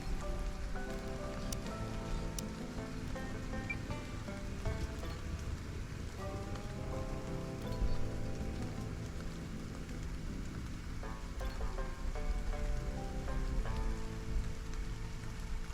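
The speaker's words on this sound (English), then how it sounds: "Well, it's raining." Steady rain falls in the video game Stranded: Alien Dawn, a continuous soft hiss of drops on surfaces with faint tonal background music beneath it.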